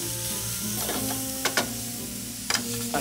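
Small diced courgettes sautéed in a frying pan, a steady near sizzle with a few brief clacks and scrapes as the pan is stirred, no one speaking.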